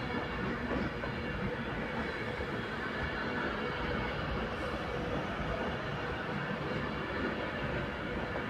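A three-coach Transport for Wales train bound for Chester at platform 9 of Crewe station, giving a steady, dense rumble of wheels and running gear that holds evenly throughout, with no voices over it.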